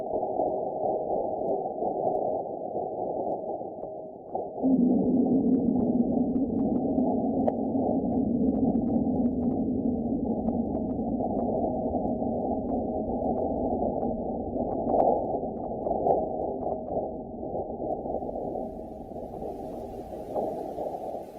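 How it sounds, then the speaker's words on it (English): Seismic data from NASA's InSight lander on Mars, sped up and played as sound, forms a steady low droning rumble with faint clicks; it swells into a stronger tonal hum a few seconds in and continues for about twenty seconds. "This is about 45 minutes of seismic data, and you'll be able to hear it in a little less than half a minute."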